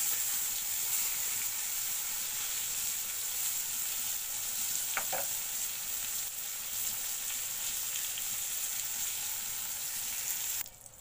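Eggplant fritters (begun bora) sizzle steadily in hot oil, a continuous close frying hiss with a brief scrape as the pieces are flipped midway.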